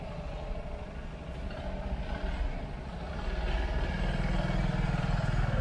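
A scooter moves through a two-wheeler driving test course, its small engine a steady low hum that grows slightly louder toward the end, with no talk over it.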